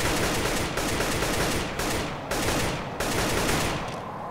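Rapid automatic gunfire in CS:GO, several sustained close bursts of dense shots separated by brief gaps, loud and without talk.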